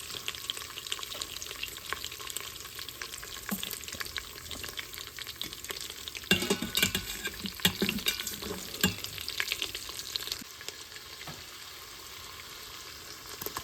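Cardamom, whole spices and garlic sautéing in an Instant Pot for shrimp biryani: a steady close sizzle with repeated scraping stirs, growing busier and louder midway, then easing back to a gentle fry with no talk.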